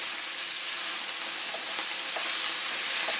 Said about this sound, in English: we're going to brown up the ground turkey